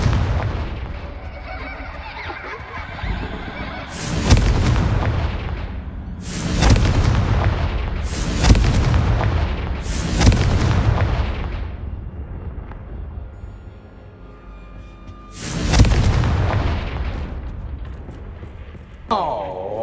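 Repeated Confringo and Bombarda spell explosions burst in the Hogwarts Legacy video game, six heavy booms spaced irregularly a couple of seconds apart, each decaying with rumble, while a voice shouts spell incantations.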